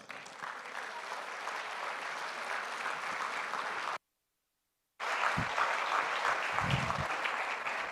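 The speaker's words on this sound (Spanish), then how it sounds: "recibirlo con un fuerte aplauso" An audience applauds to welcome a speaker at an innovation centre launch in Latin America, a dense steady roar of clapping, briefly cut to silence midway and then resuming with some low thumps.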